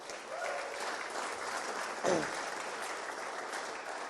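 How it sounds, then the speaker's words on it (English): Applause from an audience at an evening art talk, a steady moderate wash of clapping with a brief louder swell midway, some voices faintly mixed in. "big round of applause for Glauco"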